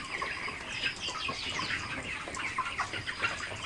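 Several chickens in a poultry-rearing shed cluck and chatter steadily at moderate distance, overlapping calls with occasional wing flaps throughout.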